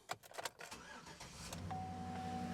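A car engine cranks and catches after a P0521 oil-light repair, then settles into a steady idle, preceded by a few clicks and clunks.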